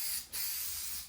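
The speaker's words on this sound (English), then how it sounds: "I'm just gonna put a light coating of spray 77 on this" 3M Super 77 spray adhesive hisses from an aerosol can onto waxed canvas in a steady close spray, with one brief pause before the spray continues.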